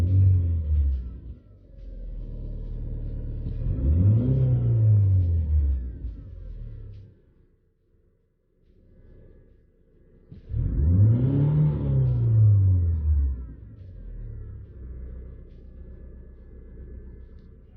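An Alfa Romeo 156 with the 1.8 Twin Spark engine revs twice, each time climbing and falling back to idle, with a steady mid-pitched idle rumble between the blips and a brief near-silence around the eight-second mark.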